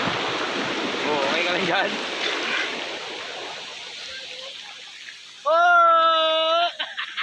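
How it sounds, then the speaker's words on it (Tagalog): Ocean waves at a beach wash in as a broad surf rush that builds and fades, followed by a person speaking loudly close by. "Waiting for the wave."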